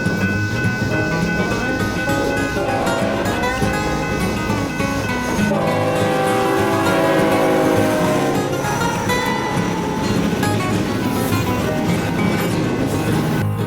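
The ZALT-WSP freight train rumbles past Salter just before a storm, a loud, steady roar of rolling cars and wheels that stays close throughout.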